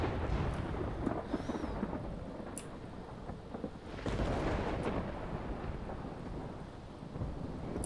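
A stormy scene in the video game Life is Strange, with steady rain and wind under rolling thunder, including a heavy rumble midway, loud and continuous with no talking.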